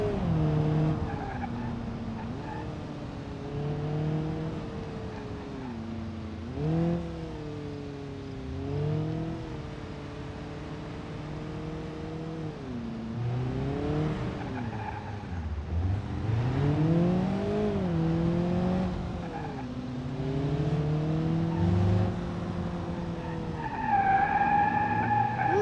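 Tires squeal and skid repeatedly as a car's engine revs and slides through turns in the BeamNG.drive driving game, the wavering engine drone and screech loud and continuous throughout.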